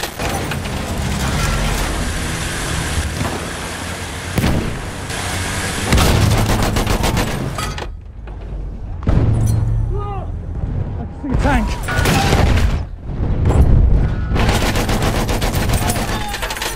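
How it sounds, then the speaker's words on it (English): Machine gun fire in the Battlefield 1 operations mode, with loud sustained automatic bursts and rattling, heavy booms during an attack on an armored train, and brief gaps. Voiced in-game callouts sound over the battle. "Enemy machine gun!"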